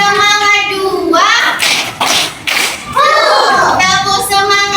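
Second-grade primary school class doing a 'tepuk semangat' chant at close range: children's voices chant in rhythm, with bursts of claps between the sung phrases.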